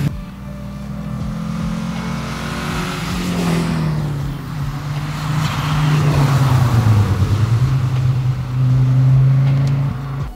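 A historic Lotus Cortina rally car passes during a historic rally, its engine note climbing loudly and steadily as it goes by at close range, sustained throughout with no talk.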